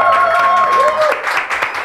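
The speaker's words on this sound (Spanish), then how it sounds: "¡Fuerte el aplauso para Andrés Ignacio Socías!" Brief audience applause at a comedy show rises over a sustained tone and music, clapping spread across a crowd for under two seconds.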